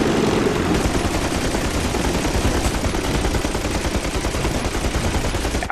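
Gunfire in the video game Army of Two: The Devil's Cartel, with dense, continuous automatic bursts that hold at a loud, steady level throughout.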